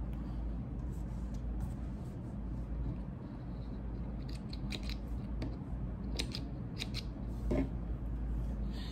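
Small thread snippers clip sewing thread on denim shorts, giving a few crisp snips near the end over a steady low mechanical hum, close by.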